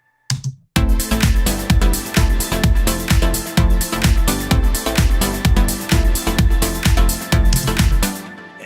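An eight-bar progressive house loop with side-chained pumping, delay and big reverb plays loud and dense with a steady four-on-the-floor kick, pulsing chords and a sustained high tone, without any voice.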